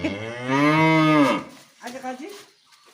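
A cow moos nearby: one long, loud, drawn-out call followed by a shorter, softer moo.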